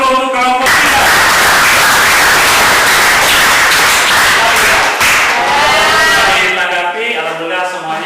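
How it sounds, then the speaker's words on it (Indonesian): Classroom of students applauding a student group after its presentation, a loud, sustained patter of many hands clapping for several seconds and fading into a few lingering claps at the end. "tepuk tangan dulu untuk kelompok 3."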